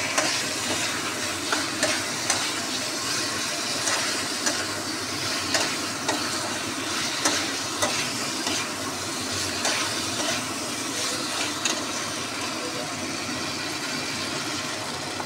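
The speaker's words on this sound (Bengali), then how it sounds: "মশলাটা একটু কষানো হোক" Ginger-laced masala fries and sizzles steadily in a pan, with a regular scrape of stirring every second or so throughout and no talking.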